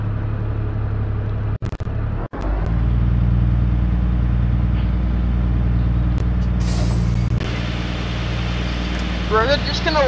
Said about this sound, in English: We're just gonna let the bus idle before we shut it off